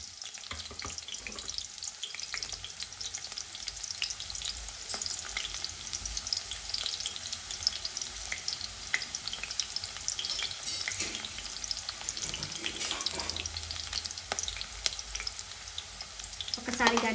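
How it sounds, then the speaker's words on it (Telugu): A sliced onion fries in hot oil for bagara rice, a steady crackling sizzle that runs without a break and stays close and fairly even in loudness. "ఒక ఉల్లిగడ్డ వేసాను ఆయిల్లో"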